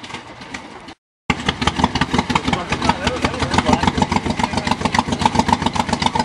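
A Ford jeep engine runs rough on only two cylinders, a loud, close, uneven chugging with irregular pulses that carries on steadily after a brief dropout near the start.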